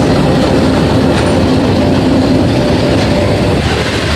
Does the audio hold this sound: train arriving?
yes